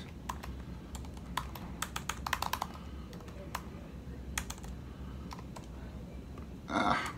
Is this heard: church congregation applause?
no